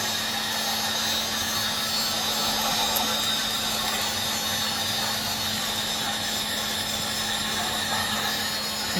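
A heat gun blows hot air to shrink plastic wrap around a DIY sock gift, making a steady, loud whooshing drone with a constant motor hum and no breaks.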